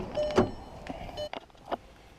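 Someone climbing back into a car, with a few clunks and thuds of the door and seat movement close by, one sharper knock early and softer bumps after.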